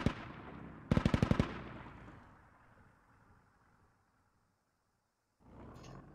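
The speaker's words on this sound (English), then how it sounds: "the Russian MTLB being engaged by a militia Dishka emplacement." A militia DShK heavy machine gun emplacement fires on a Russian MT-LB in the Squad video game, one loud burst of about six rapid rounds that rings out into a long fading echo, followed later by a low distant rumble.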